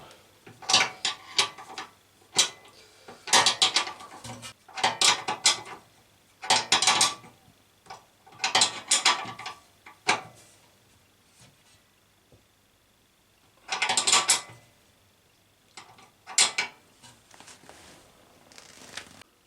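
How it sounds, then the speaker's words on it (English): Spanner working a nut on an electric moped during a renovation, heard as a series of close metallic ratcheting and clicking bursts, each a second or so long, with short pauses and a longer gap partway through. "kind of all depends on if I can get a spanner in here"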